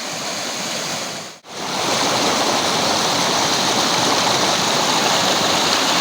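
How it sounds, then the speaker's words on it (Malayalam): Small waterfall at Choriyankunnu with water rushing through a canal, a loud, continuous roar broken by a brief dip before resuming steadily. "വെള്ളമായി കനാലിലൂടെ ഒലിച്ചു പോണതും അതുപോലെ വളരെ ചെറിയൊരു വെള്ളച്ചാട്ടം"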